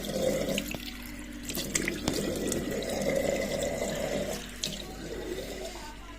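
Running water splashes continuously from a tap into a sink as it is cupped and thrown onto the face to rinse a burning eye, steady and close for about six seconds.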